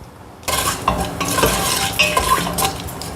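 Cloves and a bay leaf fry in a pan for a coconut milk carrot tomato rice, a spoon scraping and clinking against the metal over a steady sizzle, with no talking.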